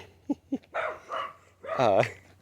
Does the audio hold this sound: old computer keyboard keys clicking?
no